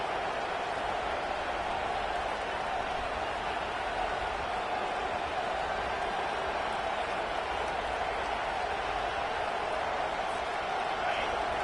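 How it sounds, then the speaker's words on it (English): A home crowd roars steadily in a packed college football stadium at Mizzou, a dense continuous wash of noise that stays loud and unbroken throughout. "listen to this crowd noise. This stadium is vibrating"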